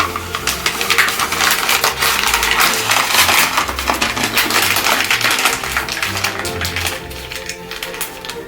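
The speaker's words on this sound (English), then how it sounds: "throw a bunch of their kibble or treats in here too" Dry pet kibble and treats spill into a puzzle ball pit made of wrapping paper and puzzle toys, giving a dense, continuous rattle of small hard pieces close by, with no voices.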